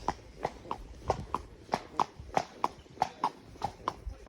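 A horse ridden one-handed in a hackamore walks on firm ground, its hooves clip-clopping in a steady, even rhythm of about a dozen close, crisp strikes.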